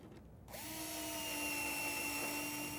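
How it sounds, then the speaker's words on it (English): Power drill starts abruptly and runs steadily, driving pocket screws into a wooden face frame cabinet box, a sustained close whine with no talk. "I'm just going to pocket screw it in place."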